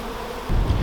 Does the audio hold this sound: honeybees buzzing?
yes